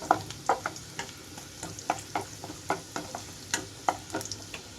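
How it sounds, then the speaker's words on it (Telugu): Chopped garlic and ginger fry in a pan for mushroom fried rice. A low, continuous sizzle runs throughout, broken by regular light taps and scrapes of a spatula stirring. "వెల్లుల్లి అల్లం కొంచెం వేగాలి ఇక్కడ"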